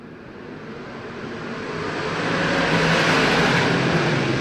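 Engines of race cars under green flag in a speedway feature race swell into a loud, continuous roar as the pack approaches and passes close by.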